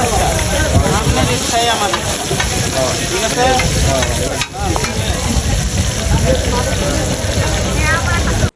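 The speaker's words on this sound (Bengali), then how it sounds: "এখন সরিষার তেল দিয়ে দেন ওনারা হচ্ছে একে একে সব মাছগুলো আমাদের সামনেই ভেজে দিই" Loud, steady sizzling and hissing of hilsa fish frying in hot mustard oil, continuous and close, with a voice talking underneath.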